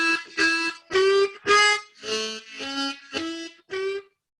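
A harmonica plays a simple two-bar phrase of eight short, evenly spaced reedy notes at one per beat, close and clear, with no voices.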